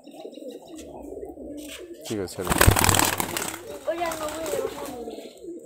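Giribaz pigeons in Rajshahi coo and flutter close by, with a burst of louder wing and body noise midway and a person speaking briefly over them.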